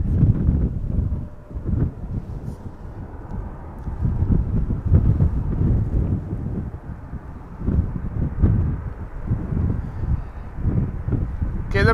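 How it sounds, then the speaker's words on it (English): Steady wind roars and buffets a microphone outdoors at an airport, a loud continuous low rumble with gusty swells and no pauses throughout. "All because of the wind."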